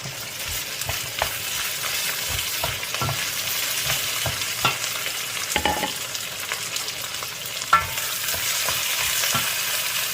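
Fish added to a pan of laing, taro leaves cooked in coconut milk, fries with a steady crackling sizzle while a utensil scrapes and stirs it again and again, producing repeated clicks over ten seconds.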